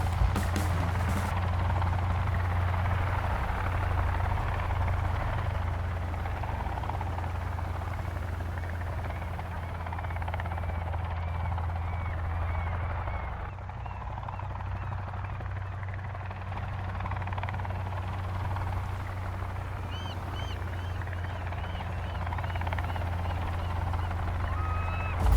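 A helicopter in the Sons of the Forest video game makes a continuous, loud, steady rotor drone with a low throbbing hum that holds for the whole stretch, with no talking.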